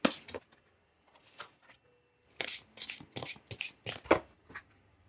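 Oracle cards being shuffled for a reading, a run of crisp riffling bursts close by with short pauses between them, no voices over the sound.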